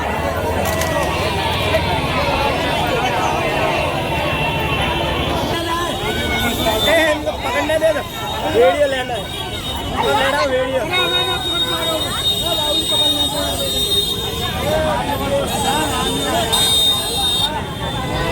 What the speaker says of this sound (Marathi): किती जास्त गर्दी आहे गर्दीच गर्दी आहे